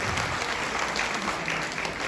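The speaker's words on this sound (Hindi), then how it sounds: "आप सभी से अनुरोध है, इनके लिए विशेष तालियां बजाएंगे" A crowd at a school honours ceremony gives a teacher who received a state award dense, sustained applause that stays loud and even throughout.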